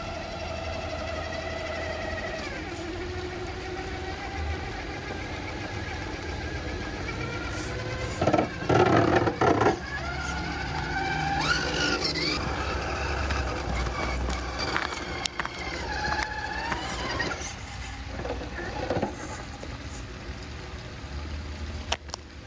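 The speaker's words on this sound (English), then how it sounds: "now let's get the tires a little wet and see how they do" A Redcat Fusion RC car drives on wet tires, its small electric motor whining and revving in rising and falling bursts close by, with scrabbling knocks over rough ground.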